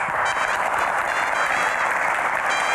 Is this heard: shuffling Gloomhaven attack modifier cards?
no